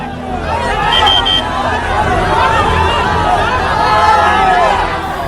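A large crowd at Pawan Singh's election road show in Dhanwar, Karakat, a steady dense hubbub of many voices and chatter, loud and continuous throughout.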